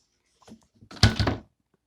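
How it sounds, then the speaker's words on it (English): A can rolls briefly and then lands on a felt pad with a soft, muffled thunk, dampened rather than sharp, close and alone. "I put a bit of felt here to soften the blow from when the can rolls"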